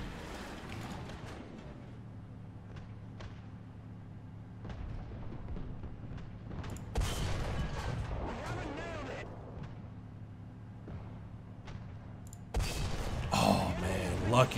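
Tank cannon fire in War Thunder with a T-28 tank in play: a few heavy booms spaced apart over a steady engine rumble, the last shot loud and close.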